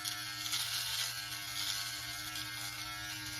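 A Yabife electric beard trimmer runs steadily on its own, a quiet continuous buzz with a faint hum and no other sounds.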